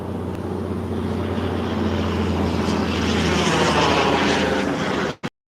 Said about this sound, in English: Those Peterbilts, always the loudest on the road.